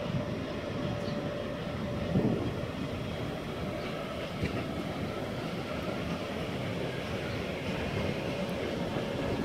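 A train pulls away from the line at Jüterbog, Germany, a low continuous rumble with a faint steady tone that holds through the whole stretch, with no voices over it.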